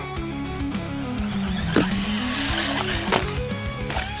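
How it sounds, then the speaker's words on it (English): A HOSIM M13 MOXLIN 3S brushless short course RC truck drives nearby, its motor whining steadily with rising and falling pitch, two brief clattering impacts or bumps, no speech. "What a wicked little short course truck."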